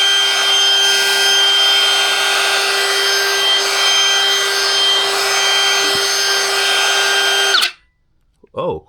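A DEWALT 20V Max XR cordless brushless router runs at a steady high-pitched whine for several seconds, loud and close, then cuts off abruptly as the brake stops it, followed by a brief murmur of speech.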